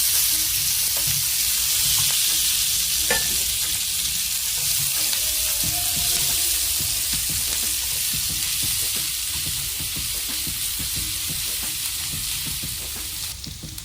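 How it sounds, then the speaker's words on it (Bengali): About twelve garlic cloves, chopped ginger and four green chillies fry in a pan with a continuous close sizzle and occasional soft stirring scrapes, steady for the whole stretch. "ভালো করে এগুলো ফ্রাই করে নেবো।"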